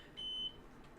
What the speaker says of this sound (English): I don't know what this alarm is.